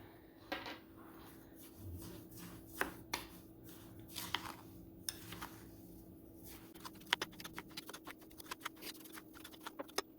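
A spoon stirs and scrapes through a festive fall sugar scrub in a bowl, giving irregular gritty clicks and taps close by, with a quiet stretch midway and no talking.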